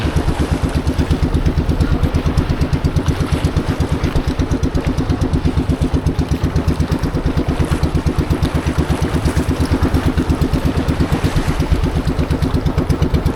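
A motorcycle engine idles steadily up close, a fast even putter that holds the same rhythm throughout with no one speaking.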